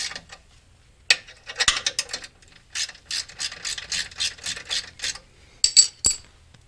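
A hand ratchet quickly spinning out transmission bolts on a 2002 Honda Odyssey, sharp rapid clicking bursts in repeated runs with short pauses, close and loud, no talking.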